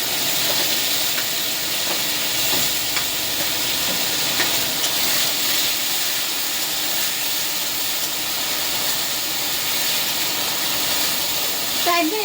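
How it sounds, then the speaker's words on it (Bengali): Ground onion paste sizzling in hot oil in a pan, a dense steady hiss that runs unbroken and loud for the whole stretch, with faint stirring clinks and no voice. "তো এবারে পেঁয়াজ বাটাটা ছেড়ে দেবো তেলের ওপরে।"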